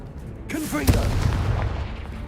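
The Confringo explosive spell goes off in Hogwarts Legacy on PS5, a sharp booming blast with a whooshing cast just before it and a rumbling tail after it. A voice speaks just before the blast.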